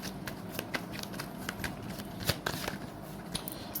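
Tarot cards being shuffled by hand, a quick run of papery riffles and flicks close up, steady and fairly quiet with one sharper snap midway.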